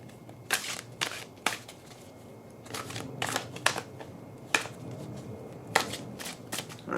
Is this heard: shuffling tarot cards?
yes